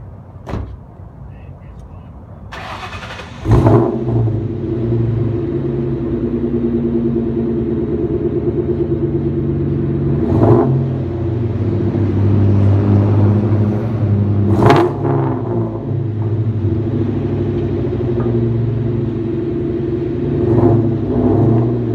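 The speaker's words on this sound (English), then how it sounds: "here's a first startup with the Borlas on it" A 2001 Ford Mustang GT V8 with Borla Stinger exhausts and an X-pipe cranks and fires up, then settles into a loud, deep, lumpy idle with a few sharp blips of the throttle, heard up close and alone.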